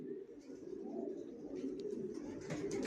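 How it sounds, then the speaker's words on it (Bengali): Johnson long-distance line racing pigeons in a loft, softly cooing in low, overlapping murmurs with a few faint higher chirps and rustles, quiet and close with no talking. "আমার লফটে সব একই লাইনের কবুতর"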